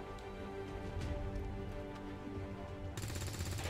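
Rapid gunfire from a soldier shooting an enemy in the video game XCOM 2, a dense rattling burst sustained throughout, loud and close, with no voices over it.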